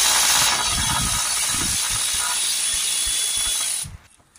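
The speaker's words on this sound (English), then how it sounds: "Just open that bolt again, same size" A ratchet turning an 8mm bolt on the ABS sensor bracket of a 2016 Ford Ranger gives a steady, close, loud clicking buzz of the pawl for several seconds, then stops abruptly.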